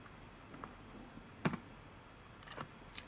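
A handful of sparse keystrokes on a computer keyboard click quietly and close, typing a short command in an otherwise quiet room.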